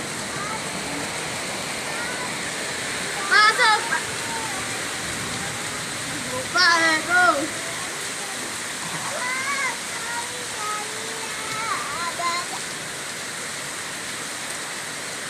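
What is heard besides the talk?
heavy rain during a flood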